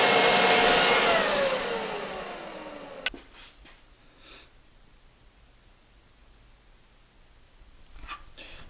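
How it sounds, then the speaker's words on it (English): A torch roars loudly against an exhaust manifold for about three seconds with a falling tone, then shuts off with a sharp pop, leaving quiet background hiss and a few faint bumps. "you're concentrating a lot more of your torch on the manifold and allowing the heat from the manifold to start to heat your plate"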